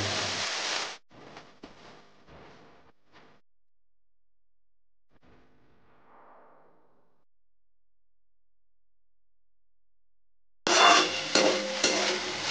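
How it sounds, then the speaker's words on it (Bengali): Fenugreek leaves tossed into a hot pan and stirred, with loud bursts of sizzling at the start and end and scraping, clattering stirs in between, separated by a long quiet gap. "এবার মেথি শাকগুলো এর মধ্যে দিয়ে দেবো।"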